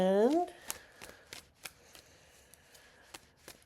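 A classic tarot deck is riffled and tapped after a brief spoken word at the start, leaving a string of crisp, close card flicks at an uneven pace.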